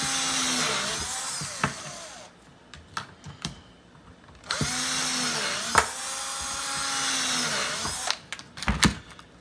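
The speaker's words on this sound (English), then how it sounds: "We're going to drill the 4 holes" Power drill boring four holes through a plastic face shield headband: high whining bursts separated by pauses, with sharp clicks and handling noises between them.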